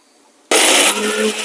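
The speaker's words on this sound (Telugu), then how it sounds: "మిక్సీ పెట్టాం, ఫైన్గా పౌడర్ అయింది." A mixer grinder suddenly starts up, whirring loud and steady as it grinds dry coconut into fine powder, its pitch dropping slightly partway through, with no voices.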